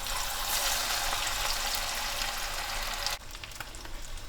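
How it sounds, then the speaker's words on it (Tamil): South Indian style masala fish coated in cornflour batter frying in a pan of hot oil, a steady bubbling sizzle that continues throughout and drops somewhat quieter near the end. "இப்போ மீனை ஒன்றா போட்டு ஃப்ரை பண்ணி எடுத்துக்கலாம்."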